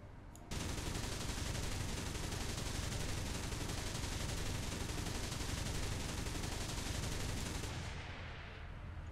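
A Gepard anti-aircraft gun in War Thunder fires one long unbroken burst, a dense, loud, continuous roar of rapid autocannon shots lasting several seconds before cutting off abruptly.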